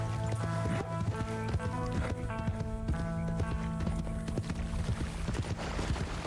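Horse hooves clip-clop at a steady gallop in Red Dead Redemption 2, a continuous rhythmic run over a bed of country-style music.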